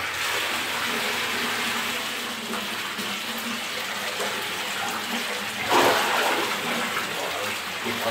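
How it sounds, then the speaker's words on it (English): Water runs steadily into a bathtub, a broad continuous rush that holds even for the whole stretch with a brief louder gush near the end, and no talking over it. "put some water in my bathtub because I'm cold"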